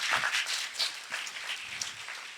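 Clapping from an audience in a church during a sermon, a scattered, uneven burst of claps with separate sharp hits, strongest at the start and dying down over two seconds.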